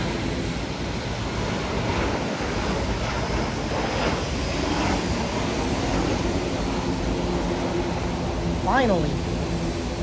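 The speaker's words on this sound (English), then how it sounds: "here we have Copa 142 coming in from Panama City on a 737-800. Now landing here at 10 at the South Complex." A Copa Boeing 737-800 airliner from Panama City lands on runway 10 at San Juan airport, a steady broad roar of jet engines and rushing air that persists throughout, with a brief spoken word near the start.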